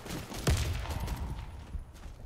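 Gunfire rattles in a multiplayer shooter video game, a sharp loud shot followed by a dense, continuous wash of distant firing and battle noise, with no talk.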